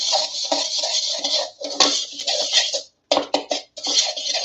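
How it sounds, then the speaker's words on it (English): A spoon scrapes and clinks around a bowl while butter and cornflakes are stirred together for a casserole, in close, steady bursts with brief pauses. "And then we'll just stir it in there."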